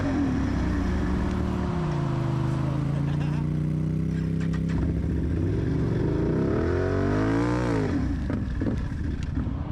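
Can-Am off-road vehicle engine runs rough and loud up close, a droning idle with uneven chugging that rises in a brief rev near the end, with someone talking over it.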